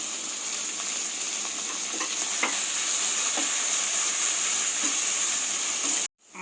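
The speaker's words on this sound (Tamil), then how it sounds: "அந்த ஆனியனை இதில் நான் ஆட் பண்ணுறேன்" Chopped spring-onion bulbs sizzle steadily in a hot pan, a close, continuous frying hiss with scattered pops and crackles for about six seconds before it cuts off abruptly.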